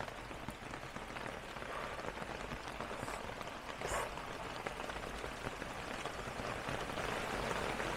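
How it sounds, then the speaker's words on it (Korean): Heavy rain pours steadily onto a Land Rover Discovery 4 and the ground during car camping at a Namyangju campground, a dense, even patter that continues throughout with no voices. "그나저나 오늘 비 진짜 많이 오겠는데."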